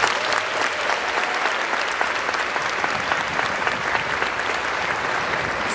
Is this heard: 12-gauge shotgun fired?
no